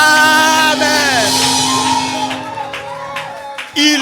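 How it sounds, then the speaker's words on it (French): A church congregation shouts and cheers for joy during a Sunday worship service. A dense wash of voices, whoops and sustained cries carries over a steady musical drone, with a fresh burst of shouting at the very end. "Une offrande d'acclamation en poussant des cris de joie."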